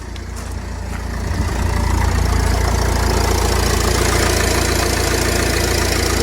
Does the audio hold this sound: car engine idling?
yes